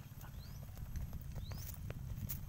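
A hyper, kicking horse's hooves clip-clopping, scattered faint hoof knocks over heavy low outdoor rumble and wind, fairly distant, with no talking.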